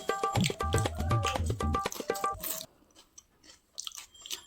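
Crunchy chewing and biting of puffed rice (muri) mixed with chanachur, chopped onion and mustard oil, close and loud in a steady rhythm for over two seconds, then fading into quieter, sparse munching.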